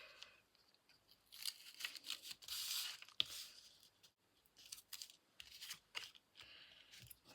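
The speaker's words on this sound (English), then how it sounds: "I'm just going to cut these in half because they only need to be narrow for either side." Sharp snips of scissors cutting ribbon pieces in half at a craft table, a few quick close crunching cuts with soft paper-like rustling between them and no talking.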